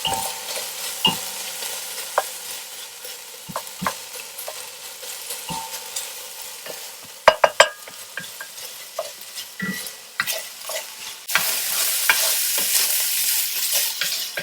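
Smoked bacon and beef fry in a pan for boeuf bourguignon, a continuous sizzle broken by sharp utensil clicks and scrapes, growing louder toward the end.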